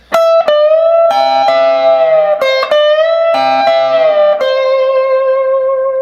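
Electric guitar plays a lead phrase from a solo, with quick picked notes, double stops and gliding bends, ending on a long sustained note that rings out, loud and up close.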